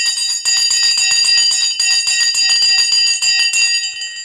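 A bell rings loudly in rapid repeated strikes for about four seconds during a live stock market broadcast, its bright metallic tones overlapping steadily before fading out at the end.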